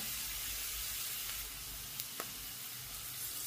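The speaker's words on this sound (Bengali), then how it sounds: "তেলটা গরম হয়ে এসে আমি এখন দিয়ে দিলাম কাটিয়ে রাখা পেঁয়াজ" Chopped onion with a pinch of salt fries in hot oil, giving a soft, continuous sizzle heard from close by. A few light clicks of stirring break the steady hiss.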